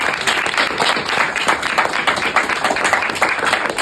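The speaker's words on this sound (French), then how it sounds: "un tonnerre d'applaudissements pour les animateurs" A crowd applauds the hosts of a krump warm-up and conditioning workout, with dense, steady clapping sustained throughout, fairly loud and close, with no voices over it.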